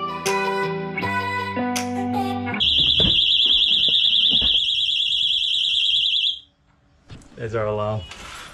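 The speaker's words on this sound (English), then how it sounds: "There's our alarm." A shrill electronic alarm at a boatyard in Monastir, Tunisia, holding one steady high tone for several seconds, loud and near, following a stretch of tonal music-like notes, with voices before and after.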